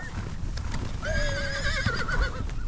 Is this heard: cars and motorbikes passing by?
no